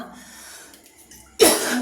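A single dry cough bursts out close and loud after a quiet room-tone pause.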